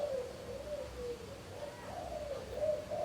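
A zebra dove (perkutut) coos in a series of soft, rhythmic, warbling notes, fairly close, over a low background hum.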